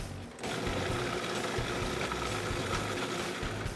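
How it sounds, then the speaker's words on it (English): Waring food processor with an S blade and a 1 horsepower motor starts up and runs continuously, a loud, steady whirring hum close by with no talk. "going to load it into the food processor with the S blade, lock our top, pour a liquid down"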